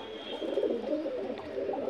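A Chhapdar (Jamni) pigeon coos in soft, rolling low calls, repeated steadily throughout, close by and clear with no talk.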